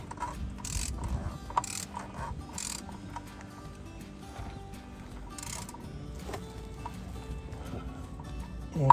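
A socket wrench ratchets on a car during an oil change, a run of quiet, irregular clicking bursts separated by short pauses, with faint handling noises between them.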